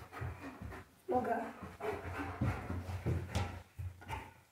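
German shepherd dog panting close by in a home during obedience training, quick rhythmic breaths running through the clip while a person speaks commands over them.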